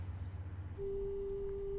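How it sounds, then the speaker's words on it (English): A dead phone line gives a steady, unbroken electronic tone that holds alone after a brief low hum at the start, with no voices over it. "The phone's dead."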